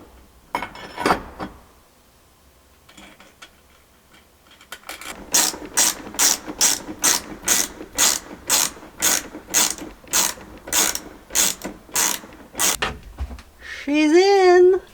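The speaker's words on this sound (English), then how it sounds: "I'm gonna put this bracket here now and tighten everything" A hand ratchet tightens bolts on an air conditioner unit bracket, a long run of sharp, evenly spaced clicking strokes up close, preceded by light handling sounds and followed by a short spoken phrase.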